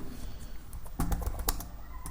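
Close computer keyboard keys click in a brief quick flurry as an account name is typed into Salesforce, clear and without talk.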